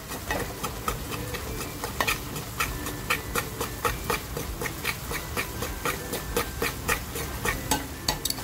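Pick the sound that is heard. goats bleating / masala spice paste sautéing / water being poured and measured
masala spice paste sautéing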